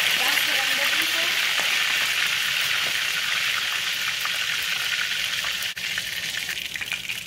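Breaded cube steak frying in a pan with a steady, loud, close hiss and sizzle of hot oil that runs unbroken, with crackle throughout and a brief dip near the end.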